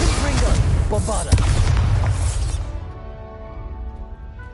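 Bombarda spell explosion in a Hogwarts video game, a loud booming blast with crashing debris that rolls on, then decays into a lingering rumble and tone, with a voice at the start.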